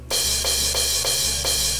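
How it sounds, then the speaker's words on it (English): Stock MIDI crash cymbal from a drum kit on a black metal album, splashing four times in an even pulse, each bright wash sustaining over a steady low bass drone with no talking. "there are also moments where he uses like this little crash cymbal."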